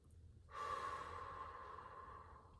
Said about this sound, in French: Juste sentir le souffle.